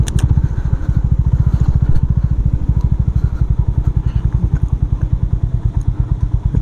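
A Honda H'ness CB350 motorcycle engine thumps in a close, loud, rapid and even rhythm while riding at night, a continuous single-cylinder beat with no talk over it.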